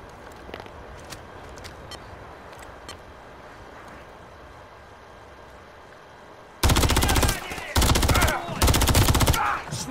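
Loud bursts of automatic gunfire in a Call of Duty campaign mission erupt in three long volleys after a stretch of quieter ambient battlefield sounds with scattered distant shots.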